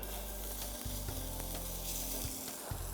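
Onion and fennel fry in olive oil in a hot pan, giving a steady, close sizzle that runs the whole time with a few brief stir clatters and no talking.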